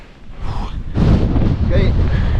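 Storm wind blasts across the exposed summit of Snowdon during Storm Agnes, roaring loudly and buffeting the microphone with a deep rumbling gust that builds and holds.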